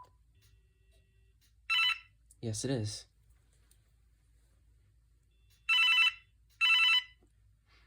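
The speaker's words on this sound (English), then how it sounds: "I like that ringtone, actually." An old AT&T 9410 cordless phone with shattered antennas trills in short electronic bursts, two pairs separated by a pause, with a brief spoken reply between them.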